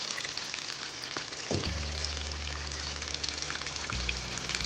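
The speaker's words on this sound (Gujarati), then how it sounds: "હવે આપણે આ મુઠિયાને ધીમા તાપે તળી લઈશું." Gujarati muthiya dough balls, pressed thin for churma ladoo, fry in oil over a low flame, giving a continuous soft sizzle and bubbling. A low hum swells in and out beneath it, and no one speaks.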